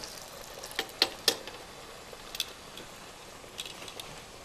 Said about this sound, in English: Man, they fry fast.